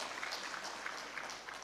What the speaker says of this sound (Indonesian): Tepuk tangan Bu Lia Parisiana.